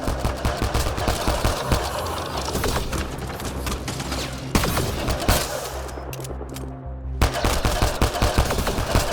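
Enemy gunfire in Mass Effect Andromeda, with dense bursts of automatic shots crackling almost without pause and a short lull before the firing resumes.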